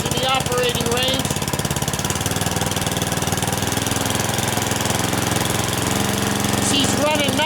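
A snow blower engine, just tuned up, runs loud and close at raised operating RPM, a steady rough buzzing drone with a rapid chugging pulse that holds even throughout.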